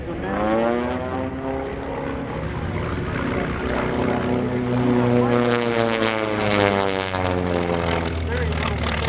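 A propeller airplane engine runs at 2,300 RPM, a loud, steady droning hum with a strong rhythmic beat and layered harmonics, heard close by for the whole stretch while a voice talks over it.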